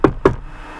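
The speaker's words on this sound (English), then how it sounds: "Knock on wood." Two quick, loud knocks on wood land close together, then the room goes quiet.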